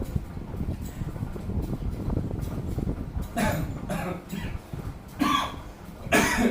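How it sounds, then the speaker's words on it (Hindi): A teacher in a classroom lesson on accounts coughs in several harsh bursts, clustered near the end, close and fairly loud over a low background hum. "थोड़ी खांसी हो गई है।"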